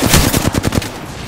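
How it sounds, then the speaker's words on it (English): Rapid bursts of gunfire from bomb bots in a shooter video game, a loud close volley of about eight quick shots in a tight rhythm that cuts off abruptly, with no voices over it. "Bomb bots are shooting at me."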